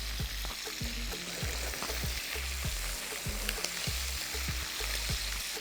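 Vegetables frying with tomatoes in a pan with margarine or fat, a constant close sizzle mixed with rhythmic scraping and stirring strokes, quiet and with no talking.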